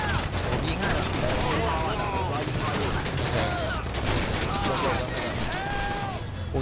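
Dense, continuous gunfire in Grand Theft Auto V, a loud rapid fusillade of overlapping shots and mechanical rattles that runs without pause, mixed with players talking.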